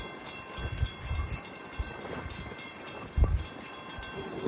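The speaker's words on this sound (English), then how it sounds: "That's our first train of the day." An Amtrak passenger train rumbles past at a distance, with rhythmic low thumps from the wheels and a steady rushing noise, fairly faint overall.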